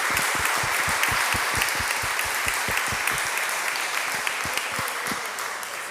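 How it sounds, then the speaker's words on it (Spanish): An audience at an evening community gathering breaks into steady applause, rapid overlapping claps that stay loud for several seconds before gradually thinning out. "Pues le damos otro aplauso"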